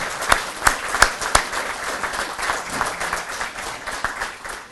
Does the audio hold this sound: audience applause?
yes